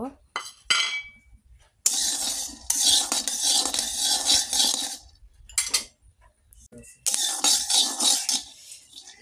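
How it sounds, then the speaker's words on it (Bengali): Peanuts dry-frying in a hot wok, stirred with a metal spatula: bursts of rattling, scraping nuts against the pan with clinks, broken by short pauses, close and loud, with no voice over it. "গরম হওয়া কড়াইতে এখন আমি বাদামটা ভেজে নেব"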